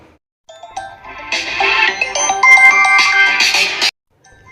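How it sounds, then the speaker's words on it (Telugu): A mobile phone plays a bright melodic ringtone of chiming tones for about three seconds, loud and close, starting softly and then swelling before it cuts off. "ఈవిడ ఫోన్ చేస్తుంది ఏంటో."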